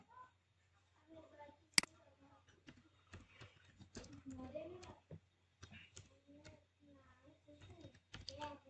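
Computer keyboard keys click in short, scattered bursts while text is typed into a spreadsheet, close and crisp, with a voice speaking quietly between the taps.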